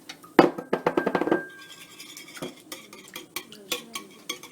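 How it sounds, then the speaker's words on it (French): Eggs and sugar whisked in a bowl for pastry cream, a quick run of close, clinking strokes at the start, then lighter, scattered taps and scrapes of utensil against the bowl. "on va mélanger le sucre et les œufs puis la maïzena"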